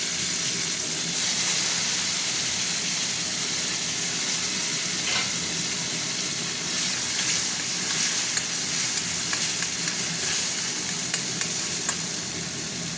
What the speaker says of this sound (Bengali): টমেটোটা একটু ভাজা ভাজা হোক